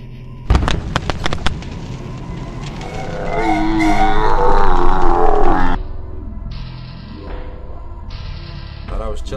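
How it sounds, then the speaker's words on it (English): A big explosion in a horror video game: sharp cracking bursts, then a swelling rumbling roar that peaks and cuts off, followed by quieter tonal game sounds, all loud and up front. "But you're gonna create a big explosion."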